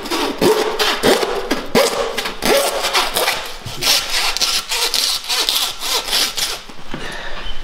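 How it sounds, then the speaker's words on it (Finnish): Hand saw cutting through deer ribs while butchering a deer, a loud close rhythmic rasp of quick back-and-forth strokes, about two per second, steady throughout with no talk. "Sahataan se tosta."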